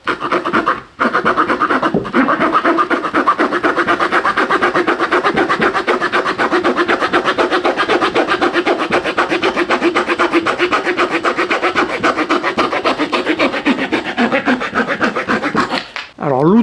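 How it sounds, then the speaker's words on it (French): Steady back-and-forth rasping of a Leatherman Outrider saw cutting through dry wood, close and loud, with continuous strokes and a brief pause near the start before the cutting stops at the end. "l'Outrider, c'est beaucoup plus agréable en main pour venir scier et c'est plus efficace aussi"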